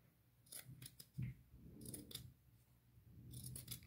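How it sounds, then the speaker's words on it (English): Scissors cutting a half-inch strip off the bottom of a fabric doily, several quiet close snips with soft rustling between. "I am going to cut like half an inch strip off the bottom of it."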